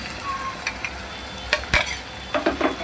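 Green masala paste stirred and sautéed in hot oil, soft sizzling under a few sharp scrapes of a spoon against the pan, closely heard.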